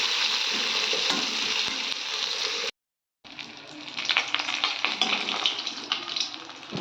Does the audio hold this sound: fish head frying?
yes